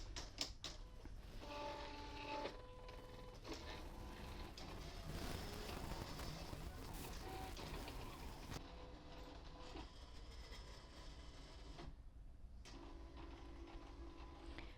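A vinyl cutting machine cuts Siser glitter vinyl with a continuous mechanical whir and rattle, shifting tones as the carriage moves, short pauses between passes, fairly faint and steady with no voices.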